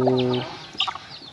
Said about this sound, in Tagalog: nagpakain tayo sa ating mga alagang manok dito sa kubo